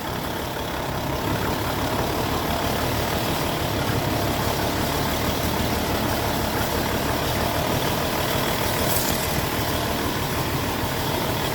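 A long farm vehicle's engine idles and works steadily as it maneuvers in a narrow space on a palm plantation, producing a continuous, loud, rumbling drone without pause.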